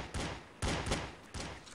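Gunfire in the video game Eva Cash: D.I.R.T. Project: three sharp, loud shots about half a second apart, each with a short decaying tail.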